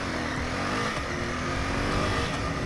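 A Honda CBR 500 motorbike engine drones steadily nearby, a continuous broadband roar with a faint rising tone throughout, with no speech over it.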